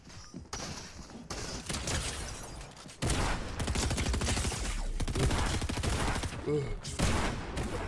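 Rapid bursts of gunfire from the Fortnite video game, played in a zero-build duos cash cup match. Dense shots crackle loudly and almost continuously, growing heavier partway through, with players talking over the shooting.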